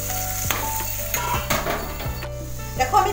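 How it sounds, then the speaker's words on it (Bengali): Chopped onions salted and frying in oil hiss steadily in a pan while a utensil scrapes and clacks against the metal in irregular strokes, close and fairly loud. "এটা ভালো করে নাড়িয়ে আমি পেঁয়াজটা ভাজা হয়ে দেবো, যতক্ষণ না ব্রাউন হচ্ছে ততক্ষণ ওয়েট করবো।"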